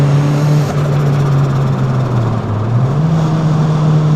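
A turbocharged car engine revs steadily while driving, its loud, continuous drone holding a strong pitch that dips and then climbs again.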